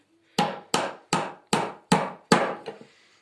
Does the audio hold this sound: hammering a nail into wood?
yes